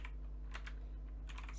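Typing on a computer keyboard while entering PermissionsEx commands: clusters of quick, close key clicks in short bursts over a steady low hum, with no talking.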